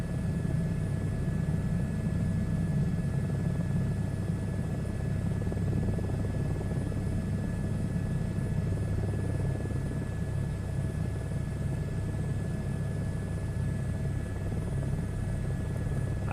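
A helicopter flies steadily in a VR flight game, its low rotor drone and engine rumble continuous and even, with no talking.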